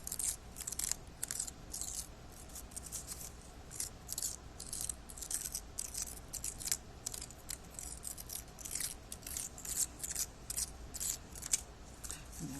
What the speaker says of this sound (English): just take scissors and cut it so it's a little bit shorter